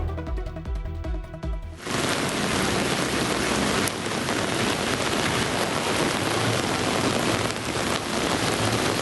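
Heavy rain pours down in a dense, steady hiss, loud and continuous, after a brief moment of other sound at the start, in the Coonoor area of India.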